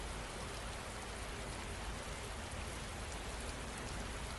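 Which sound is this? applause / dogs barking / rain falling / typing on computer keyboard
rain falling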